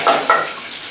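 Garlic frying in a few spoonfuls of oil or ghee in a pan, giving a soft hissing sizzle with brief stirring scrapes near the start, no voices.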